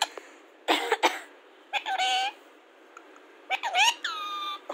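A pet parrot mimics a human cough in several short, raspy bursts separated by pauses. The sound is close and fairly loud.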